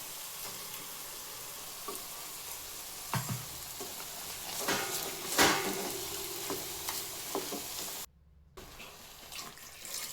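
Ground masala paste sizzles and fries with chicken pieces in a pan, a steady hiss broken by a few sharp stirring scrapes and splashes near the middle, with a brief dropout toward the end.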